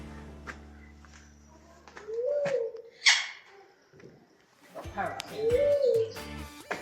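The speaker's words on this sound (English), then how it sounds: "Yeah, I thought it was a dove." Inside the Amazon World animal park on the Isle of Wight, a dove gives two soft, hooting coos a few seconds apart while people talk nearby.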